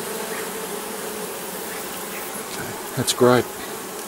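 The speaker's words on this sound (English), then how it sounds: "not to stand in front of the flight paths into these hives with the bees" Honeybees droning steadily around two beehives, a close continuous hum filling the clip, with a brief spoken comment near the end.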